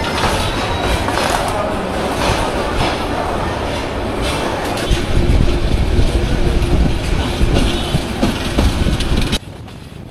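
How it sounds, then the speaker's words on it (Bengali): A train pulls out of Jamalpur station, its rumble and rattle of wheels and carriages building steadily, loud and close, with no whistle, then dropping off abruptly near the end. "কিন্তু ট্রেন ছেড়ে দিল"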